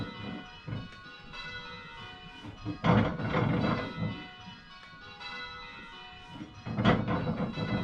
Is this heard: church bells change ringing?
yes